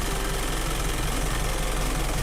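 An Isuzu Elf NPR 81 used truck engine idles steadily with a dense, continuous rumble and knock, close and loud throughout.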